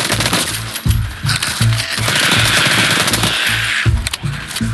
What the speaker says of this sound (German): Einfach draufballern, scheiß drauf auf Munition.